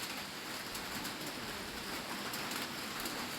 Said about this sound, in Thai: ฝนตกอ่ะฝนตก